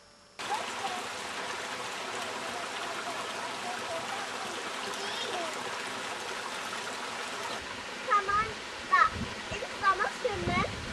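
A small outdoor stream flows with a continuous, fairly quiet rushing trickle, and voices talk over it near the end.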